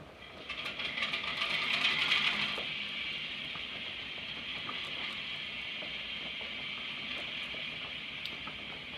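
An N gauge model locomotive's onboard sound system starts up with a rising mechanical whir that swells, then settles into a steady, quiet idling drone with faint ticks, small and tinny in tone.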